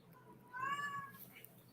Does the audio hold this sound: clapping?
no